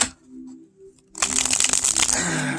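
A thin Loka playing card deck is shuffled up close: after a quiet start, a dense, crisp burst of fluttering card riffles fills the second half.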